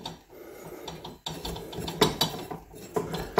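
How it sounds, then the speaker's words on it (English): A lawnmower blade removal tool is tightened onto the outside of a mower frame, producing a close run of metallic ratcheting clicks and scraping, with the clicks growing louder and more regular toward the end. "then we tighten that down onto the outside of the mower frame."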